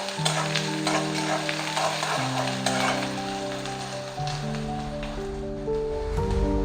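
Onion sautéing in a pan for rava medu vada gives off a steady, close sizzle under a bed of background music with slow, changing bass notes.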